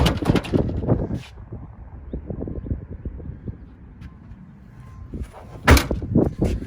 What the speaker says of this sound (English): Rear hatch opens easily.